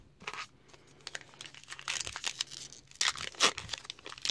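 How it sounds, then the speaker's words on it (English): Topps Heritage 2019 baseball trading card pack being opened, close crinkling and tearing of foil wrapper in irregular bursts, fairly faint. "And we'll open up this pack last here."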